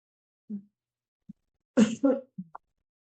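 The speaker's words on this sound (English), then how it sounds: "I'm gonna blow my nose on camera." A single short, forceful nose blow close to the mic, surrounded by a few soft sniffs and breaths in an otherwise quiet room.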